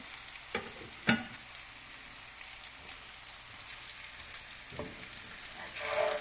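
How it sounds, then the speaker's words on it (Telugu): Steady frying sizzle as ragi vermicelli is stirred into a hot tempering with green chillies, a couple of sharp scraping clicks in the pan, rising slightly at the end. "రాగుల సేమియాలను ఈ యొక్క తాలింపులో వేస్తున్నాను వేసి కలుపుకుంటాను"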